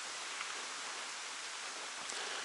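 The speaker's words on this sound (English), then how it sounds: "it's raining like crazy right now" Heavy rain pours down around a trail shelter on the Appalachian Trail as a soft, even hiss of falling water, faint and continuous, with no talking.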